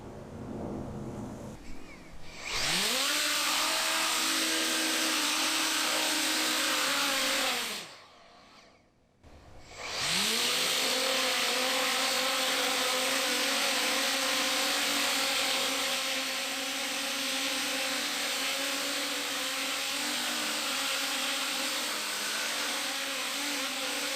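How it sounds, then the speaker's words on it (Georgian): Homemade Coanda effect propulsion motors on a drone spin up loudly with a steady high whine and dense broadband roar, cutting out briefly near the middle before ramping back up and holding at full power to the end. "ასე რომ, დრონი ნამდვილად დაფრინავს, მაგრამ იდეალური არ არის."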